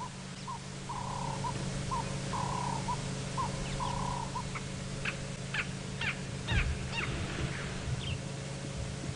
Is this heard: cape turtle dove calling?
yes